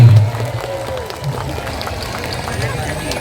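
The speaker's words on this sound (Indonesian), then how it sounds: "Angkat tangannya, tepuk tangan." Crowd applause with steady clapping and cheering at a political rally, loud and close, with a voice speaking over it at the start.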